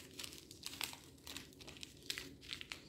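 Coffee filter paper crinkles and rustles as it is folded in half for a paper Easter lily craft, soft close-up crackling in short irregular bursts with no talking.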